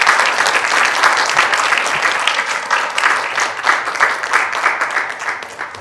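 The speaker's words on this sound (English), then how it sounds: "can we please give them another round of applause for a great workshop?" A crowd breaks into loud, sustained applause after an in-person storytelling workshop, many hands clapping together with no pause.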